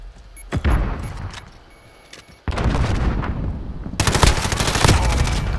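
Gunfire in a Call of Duty Modern Warfare 2v2 match: a single shot, then heavy bursts of automatic rifle fire that grow louder and denser, with rapid cracks layered over each other near the end.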